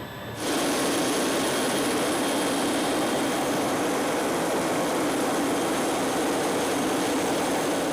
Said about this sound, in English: We're about to land in some school grounds